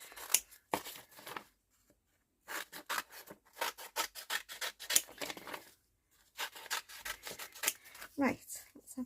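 Scissors snip through paper for a collaged vintage journal cover in quick, close rhythmic bursts of crisp cutting, broken by short silent pauses between runs.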